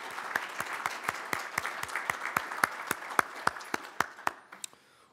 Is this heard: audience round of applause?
yes